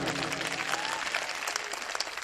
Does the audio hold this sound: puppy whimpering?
no